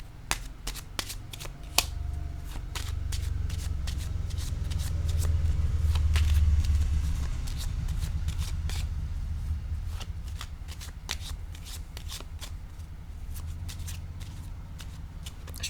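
Tarot cards shuffled by hand, a rapid run of crisp riffling flicks and snaps over a low background rumble, continuing steadily for the whole stretch with no talking.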